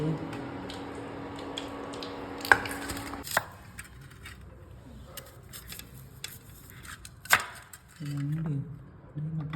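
Knife chopping through fried chicken leg pieces on a board, a few sharp distinct strikes spaced apart with quieter handling in between, while people talk nearby.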